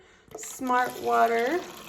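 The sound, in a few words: pouring Smart Water into a cup with a green tea bag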